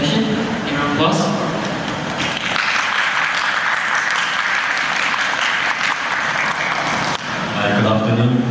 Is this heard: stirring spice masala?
no